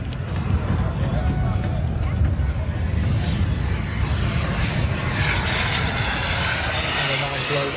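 Model Panther jet with a turbine engine making a low pass at an airshow, a steady roaring whine that rises toward the end as it sweeps past, with a commentator talking over it.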